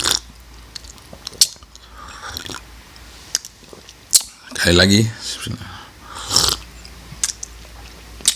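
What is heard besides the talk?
slurping sips of unsweetened coffee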